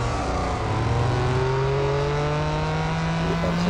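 Race cars on the Le Mans circuit in the Real Racing 3 video game, including a Ford GT, roar steadily as a loud, dense engine drone with a slowly rising whine, close by throughout and with no talk over it.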